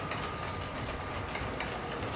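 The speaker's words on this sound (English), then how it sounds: "we just got the 221 Voyager leaving there" A model Class 221 Voyager train departs along a layout, giving a steady rolling rumble with faint clicking over the track, even and continuous throughout.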